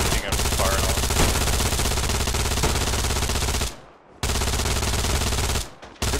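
Automatic gunfire from the World War II shooter Hell Let Loose, loud sustained bursts of rapid shots close by, broken by two short pauses.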